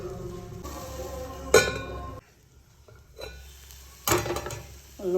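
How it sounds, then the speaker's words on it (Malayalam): A spoon scrapes and clinks in a pan while green beans payar thoran, a Kerala stir-fry, is stirred, in two bursts separated by a quieter stretch of soft background noise. "ഒന്നും കൂടെ ഇളക്കി കൊടുക്കാം."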